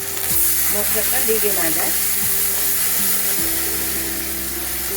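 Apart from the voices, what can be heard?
spice masala sizzling after a little water is added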